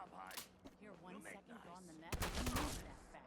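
Weapon shots in Fallout 4 arrive as a couple of heavy, punchy bangs, the loudest late in the clip, mixed in with talking voices.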